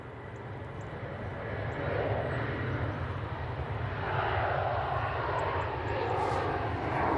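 A TUI passenger jet at Manchester Airport roars steadily at a distance, a broad, low engine rumble that swells gradually and holds for several seconds with no talk over it.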